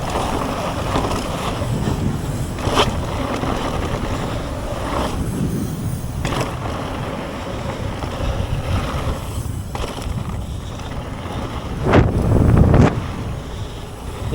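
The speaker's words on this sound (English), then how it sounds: "a bit too windy." Gusty wind buffeting the microphone in rumbling bursts, with a louder blast near the end, outdoors by open water at the Fort William downhill bike track.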